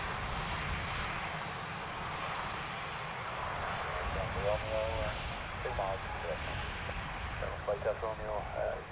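An Aer Lingus airliner arriving from Madrid at Dublin Airport gives a steady, fairly distant engine roar, with a voice talking over it toward the end.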